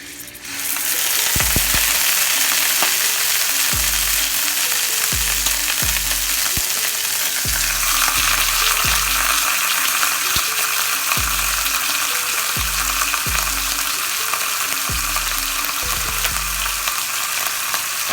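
Beef for Mississippi pot roast sears in a hot pan, a loud, dense sizzle that jumps up sharply and keeps crackling, with repeated dull knocks and scrapes as the meat is moved.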